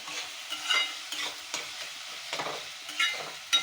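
Onions frying in a pan for a traditional village-style shellfish (clam) dish, with soft crackling sizzle and scraping stirring strokes recurring every half second or so, close and moderately quiet, with no talk.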